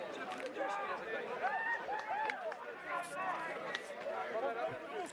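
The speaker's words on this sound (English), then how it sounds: "Love to hear the crowd too." Crowd at a schoolboys' first XV rugby match between Palmerston North Boys' High and Tauranga Boys' College on a muddy pitch, with a steady hubbub of voices, shouts and chatter close by throughout.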